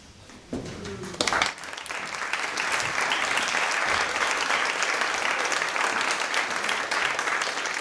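After a brief moment of quiet and a few stray sounds, an audience at a poetry reading bursts into sustained, dense applause that carries steadily to the end.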